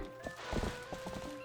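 Horse hooves clip-clop in a steady gait with a whinny mixed in, from a horse in the video game Zelda Twilight Princess; the sound is fairly faint, with a steady in-game tone behind it.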